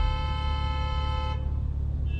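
A car horn blares from behind in a queue at a highway toll plaza, one sustained honk for over a second that then cuts off, leaving a low idling traffic rumble.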